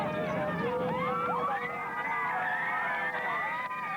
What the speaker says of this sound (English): As the crowd surrounded the train